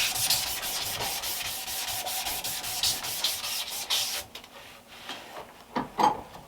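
Sandpaper rubbed by hand in quick, rhythmic back-and-forth strokes, close and steady for about four seconds, then a few scattered scrapes and knocks.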